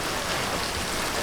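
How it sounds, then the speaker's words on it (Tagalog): Heavy rain pours down in a dense, loud, continuous patter with no break or other sound. "talaga naman pong napakalakas ng ulan ngayon"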